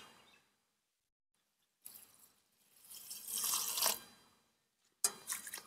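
Betel nut flowers rinsed in water, quiet short bursts of splashing and swishing separated by silences, close by with no voices.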